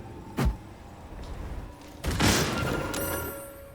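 A thrown bomb in Baldur's Gate 3 goes off as a sharp thump followed a moment later by a louder, broader blast that rumbles and fades over a couple of seconds.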